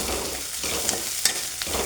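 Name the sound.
tempering (tadka) sizzling in pan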